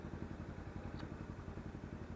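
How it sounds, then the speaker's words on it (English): A Honda CT70 motorcycle engine runs steadily at idle, a low, even pulsing chug close by with no talk over it. "I'll get the bike running and show you how it works"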